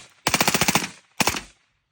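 A suppressed rifle fitted with a forced reset trigger fires a rapid string of about eight muffled shots, then a short burst of three more after a brief pause, loud and close.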